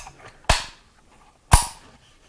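Two sharp, distinct clicks about a second apart, loud and close, as the safety selector on an Arsenal SAM5 AK rifle chambered in 5.56/.223 is snapped between positions.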